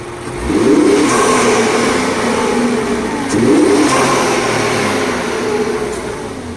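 An Infiniti Q50 3.7L engine revs up twice in quick bursts, each rise followed by a brief whooshing blow-off valve release, loud and close with no talking.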